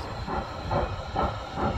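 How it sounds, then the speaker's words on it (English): Small train running the length of Blackpool's North Pier, passing with a steady hiss and rhythmic rolling pulses roughly every half second, fairly loud and continuous with no voices. "The train that goes from one end to the other end of the North Pier."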